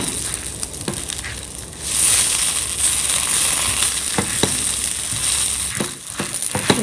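Pepper, cumin, fenugreek and curry leaves roasting in a pan, a steady crackling sizzle that swells partway through, with scattered sharp clicks of stirring against the pan.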